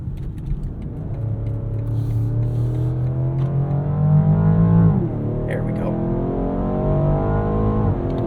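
A 2023 BMW Alpina XB7 SUV accelerates in sport mode, its engine droning as it climbs through the revs, dips briefly at a gear change and pulls again. The sound is heard from inside the cabin, steady and fairly loud.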